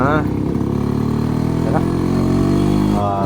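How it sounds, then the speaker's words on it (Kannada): A Yezdi Roadking 250cc two-stroke motorcycle idles close by with a steady, loud, slightly fast low thrum, while someone speaks over it throughout. "ಸ್ವಲ್ಪ ಐಡ್ಲಿಂಗ್ ಜಾಸ್ತಿ ಇದೆ ಅನ್ನಿಸ್ತಾ ಇದೆ"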